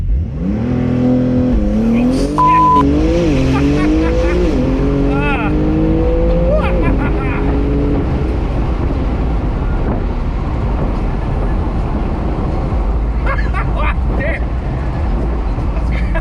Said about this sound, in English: rev up that engine, and just send it flying down the road